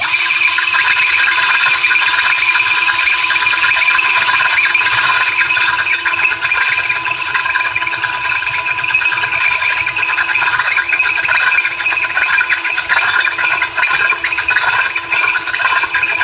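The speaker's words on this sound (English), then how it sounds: "you have to keep drilling and drilling" A steady, loud mechanical whir and rattle runs throughout, like a power drill boring continuously into a wine bottle, with slight wavering in pitch.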